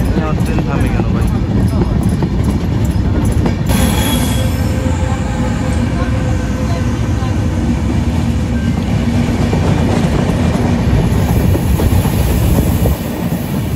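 Madhumati Express with LHB coaches rolling on rails near Gandaria station en route to Dhaka, a loud continuous rumble and clatter from inside the train with brief wheel squeal, steady throughout with some talk mixed in.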